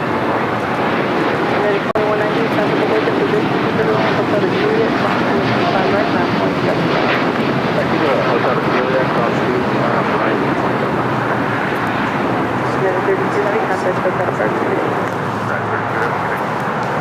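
A United Boeing 787-9 Dreamliner bound for Tokyo Narita at LAX gives a steady, broad jet roar that holds loud for the whole stretch, roughened by wind buffeting the microphone.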